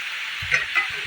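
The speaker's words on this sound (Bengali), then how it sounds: "একটু ভেজে নিয়েছি, এবার শাকগুলোকে দিয়ে দেবো।" Potatoes fry in a pan ahead of the pumpkin greens, a close, loud sizzle with two brief stirring scrapes in quick succession.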